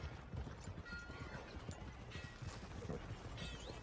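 Horse hooves clip-clop steadily in Red Dead Redemption 2, a rhythmic series of close hoof strikes with a brief whinny and faint ambient sound around them.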